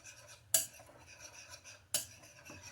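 Potatoes being mixed with a spoon in a bowl for a light pepper coating, heard as two sharp utensil scrapes and clinks against the dish over quiet kitchen background.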